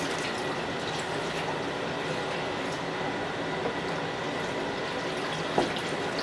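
Pineapple juice poured into the bottom of a pan for cooking ham, a steady close liquid pour with a soft splashy hiss that runs throughout.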